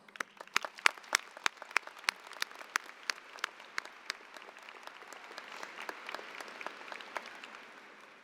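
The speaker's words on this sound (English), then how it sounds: "allow us to offer you a round of applause." A commencement audience for education and health professions graduates breaks into applause, a few loud close claps at first that thin into softer, scattered clapping over a quiet hall.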